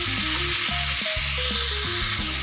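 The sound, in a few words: ridge gourd sautéing in hot oil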